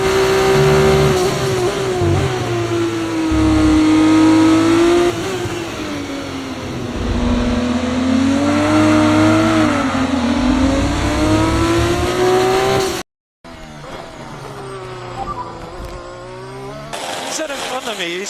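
A race car engine in a racing game driver career, overtaking with DRS open, a loud, steady high-revving whine that rises and falls with gear changes, broken by a brief cut, while someone talks over it.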